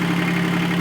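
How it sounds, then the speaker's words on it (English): A Yanmar diesel engine on a mini excavator idles with a steady, even low hum in a brief, continuous burst. "Listen to that diesel purr."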